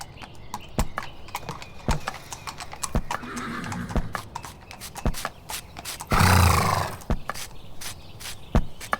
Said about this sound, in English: Well, the horse is called Melon.